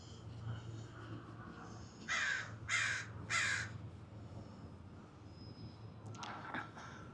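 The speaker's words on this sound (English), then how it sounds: "says the raven" A raven gives three loud, harsh caws in an evenly spaced row, then a rougher call at the end, heard over a steady low hum outdoors near the Queen Mary.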